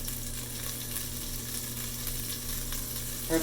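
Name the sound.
shrimp frying in a pan, salt and pepper shrimp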